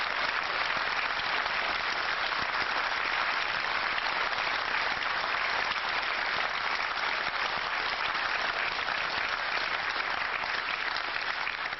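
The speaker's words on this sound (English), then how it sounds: "a standing ovation for, as Willie Thorne said, the genius at work" A snooker crowd gives a standing ovation after Stephen Hendry's 147 maximum break against Paul Wykes, dense sustained applause filling the hall evenly from start to finish, no voices standing out.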